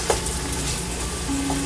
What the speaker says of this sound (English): Okay, so back to stirring.